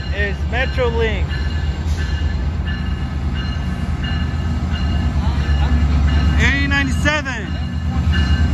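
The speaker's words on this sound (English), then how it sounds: "Now leaving at Union Station is Metrolink." A Metrolink commuter train pulls out of Union Station eastbound toward San Bernardino, a loud, steady rumble of rolling cars with squealing wheel and brake tones, while someone speaks briefly over it.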